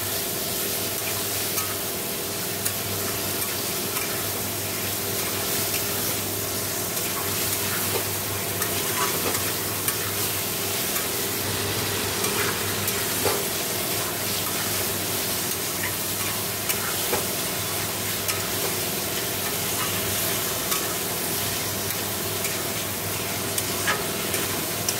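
Cumin, coriander and Kashmiri chili powder sautéed in a pan while being stirred, a steady dense sizzle and frying hiss with scraping stir strokes running throughout, close and continuous with no talking.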